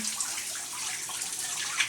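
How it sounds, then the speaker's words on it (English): Cold water running steadily from a bathtub faucet just after a Moen tub and shower valve replacement, a close, loud, even rushing hiss with no pauses or talking. "that should be our cold water there"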